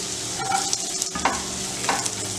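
Chopped onion sizzling in hot oil alongside finely cut ginger and garlic, stirred with a spoon that scrapes and clicks against the pan in a few distinct strokes over a steady close frying hiss.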